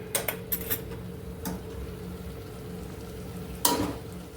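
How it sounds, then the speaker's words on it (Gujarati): Vegetables sizzle quietly in a pan after tempering, a faint steady fry with a few sharp clicks and clatters of utensils, close by and with no talk. "મસ્ત એવું આપણે શાક જો વઘારી નાખ્યું છે, સરસ."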